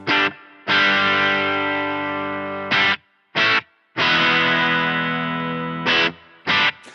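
Distorted electric guitar chords through a Helix Stadium valve preamp into a solid state amp, with stereo ducked delay, ring out in several sustained strums and short stabs, each trailing off with a washy, effected tail.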